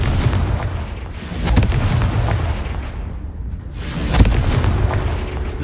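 Confringo fire-blast spell in Hogwarts Legacy, loud booming explosions with rumbling low-end blasts in two main bursts over continuous game noise, no talking.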